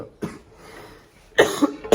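A sharp cough near the start, then two more harsh coughs in quick succession toward the end, close and loud against a quiet room.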